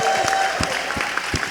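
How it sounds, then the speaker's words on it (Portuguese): An audience at a church talk event claps together, a short burst of applause heard from within the room with a voice speaking over it. "Uma salva de palmas para o Lucas!"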